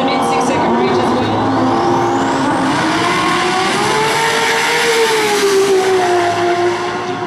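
A BMW drag race car makes a quarter-mile pass at an FX Winters event, its engine roaring loudly and climbing in pitch as it accelerates away, with an announcer talking over it.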